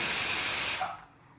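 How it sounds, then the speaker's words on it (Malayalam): A pressure cooker cooking beef lets off a loud steady steam hiss that fades away over the last half second. "ഇത് കുക്കറിൻ്റെ വിസിലിൻ്റെ ഒച്ച കേട്ടോ നമ്മൾ ബീഫ് വേവിക്കാൻ വെച്ചിട്ടുണ്ടല്ലോ"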